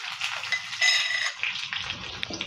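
Onion dropped into hot oil with popping mustard seeds and fenugreek in a tempering pan, a steady close sizzle with a brief louder hiss and light stirring clinks.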